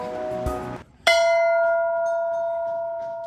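A metal temple bell is struck once inside a temple in Kashmir, a sharp loud clang that rings on with a long sustained, slowly fading hum, preceded by a brief muffled knock.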